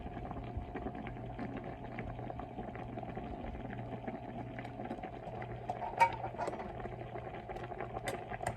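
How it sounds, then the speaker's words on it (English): Instant rice boils in a pot on a stovetop with a steady, soft bubbling and popping that carries on evenly, close by, with an occasional sharper pop. "So the rice is boiling up."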